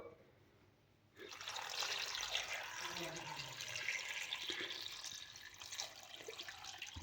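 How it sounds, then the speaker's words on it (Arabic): Water from a tap runs steadily into a pot of cut beetroot, starting abruptly after a quiet second and continuing as a loud, splashing stream for several seconds. "نضيف عليه مي"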